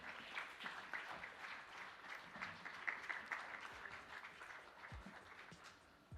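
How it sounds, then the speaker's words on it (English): Audience applause at a summit panel session: steady, dense clapping from a crowd lasting several seconds at moderate distance, with no voices over it. "Round of applause, ladies and gentlemen."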